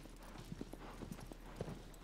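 A horse's hooves clip-clop at a slow, plodding pace across open ground in the video game Shadow of the Colossus, faint and steady with no talk.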